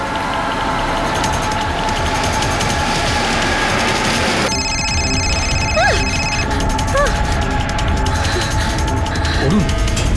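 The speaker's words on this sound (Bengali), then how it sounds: "অরুণ, তোর বাবার ফোন।" A telephone rings in a police drama scene, a steady electronic ring repeating over a busy background hum with voices talking, fairly loud and close.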